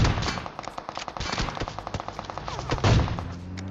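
Rapid automatic gunfire sprays in a PUBG Mobile match, loud bursts of closely spaced shots rattling on for several seconds with a heavier crack near the end, no talk.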